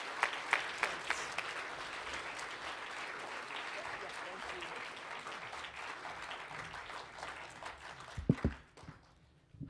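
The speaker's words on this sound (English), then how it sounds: "I'd like you to join me in a nice round of applause for Kate Welsh" Steady applause from a symposium audience honoring an award recipient fills the room for about eight seconds, dense and even, then tapers off with a few closer knocks and shuffles before it fades.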